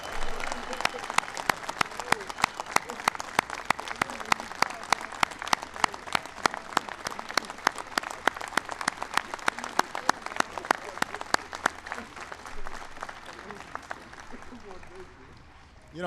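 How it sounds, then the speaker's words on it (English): An audience applauds wounded warriors at a White House ceremony honoring the Super Bowl XLVI champion New York Giants, with sustained, dense clapping that runs steadily for the whole stretch before thinning slightly near the end. "Let's give them all a big round of applause."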